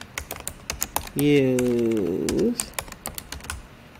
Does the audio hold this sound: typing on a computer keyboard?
yes